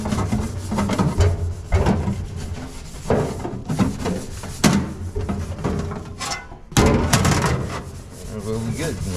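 Dishes are scrubbed by hand at a kitchen sink, giving loud, repeated rough rubbing and scraping strokes in uneven bursts with a few brief pauses; no one speaks.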